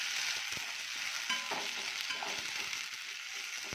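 Dal and onion with red chili powder being stirred in a hot pan, a soft continuous sizzle with quiet scraping and knocking of the spoon, fairly faint and close.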